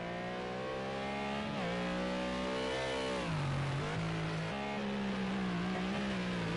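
A McLaren GT3 race car engine in a racing video game at Bathurst revs loud and continuous, its pitch climbing and dipping through gear changes with a harsh, buzzing whine.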